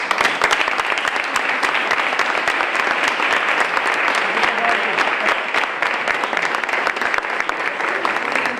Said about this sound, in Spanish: Unas palmas, por favor.